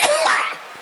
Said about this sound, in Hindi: पिता बिस्तर पर सोते सोते खांस रहे हैं.